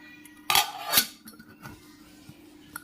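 Metal tiffin carrier boxes are stacked in a kitchen, giving two sharp, ringing clanks close by, then a few lighter metallic taps and knocks, with no talking.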